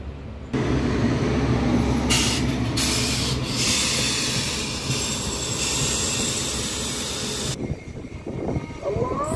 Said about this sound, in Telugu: ఇప్పుడే మన ట్రైన్ అయితే చెల్లపల్లి అవుటర్స్ నుండి అయితే స్టార్ట్ అయింది